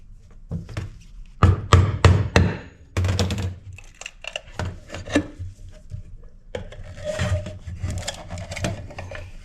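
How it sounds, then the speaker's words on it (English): Steel chisel tapping and scraping at a scrap electronic part in a workshop: a run of sharp, close knocks with scraping and rubbing between them, then irregular softer scraping. "let's take a chisel so we have a fine edge"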